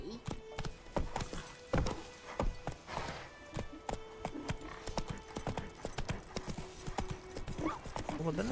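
Horse hooves clip-clopping on a road while riding in The Witcher 3: Wild Hunt, a steady close trotting rhythm of sharp hoof knocks throughout, with game ambience underneath.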